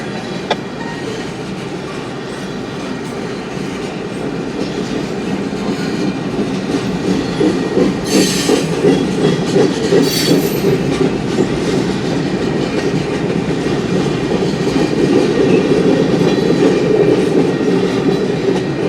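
A westbound BNSF manifest freight train, led by locomotive 7907, rolls through Navasota, a loud, steady rumble of railcars with rhythmic wheel clatter and brief squeals that builds slightly as it passes close by.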